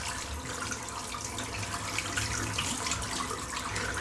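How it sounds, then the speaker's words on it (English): A shaving brush is rinsed under a running tap, steady splashing water flow close by, continuous and moderately quiet with no voices. "Just rinsing the brush out."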